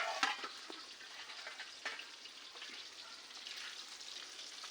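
Banana slices fry in a pan with a faint, continuous sizzle dotted with soft crackles and pops, close by and alone.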